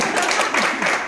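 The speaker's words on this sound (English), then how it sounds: "clap for both of them in there" Brief burst of audience clapping at a corporate event, a quick flurry of many hands close by, loud and dense for about a second.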